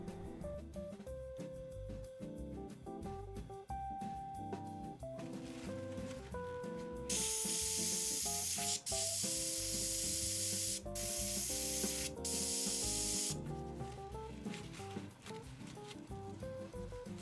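Cleaning oil is sprayed onto the terminals of a JBL LE8T full-range speaker, a steady hiss lasting around six seconds in the middle, set against quiet background music.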